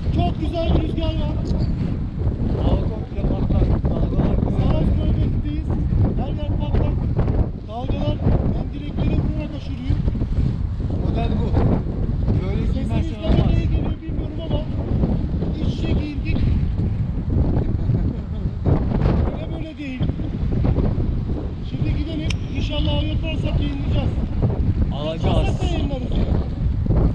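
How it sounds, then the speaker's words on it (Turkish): Strong wind buffets the microphone on a boat near Enez, Turkey, a steady rushing roar with water noise, constant and loud throughout. "Çok güzel bir rüzgar vardı."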